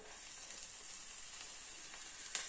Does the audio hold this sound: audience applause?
no